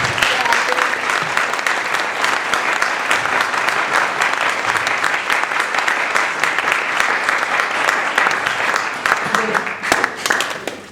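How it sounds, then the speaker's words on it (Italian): Loud, sustained applause from a seated audience welcoming a guest at a public talk in Schio, Vicenza: dense, steady clapping that continues for about ten seconds before tapering off. "Glielo facciamo un applauso a Giampaolo"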